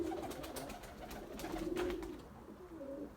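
Young white pigeons give soft, low cooing phrases, a wavering hum repeated a few times amid light flutter and rustle, faint and close with no voices.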